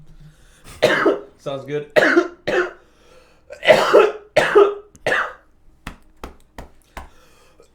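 Several harsh coughs and throat-clearing bursts close to the microphone, followed by a few sharp taps, with a brief spoken remark between them.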